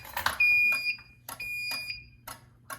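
A fire alarm sounding during a routine building test of fire, carbon monoxide and emergency lighting systems: sharp, loud electronic beeps in a repeating pulsed pattern with brief tones and short gaps, close by and with no talk.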